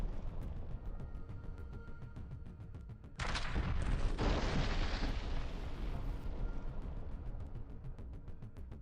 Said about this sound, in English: Moments of Russian airstrikes on Ukrainian positions in the Kharkiv region.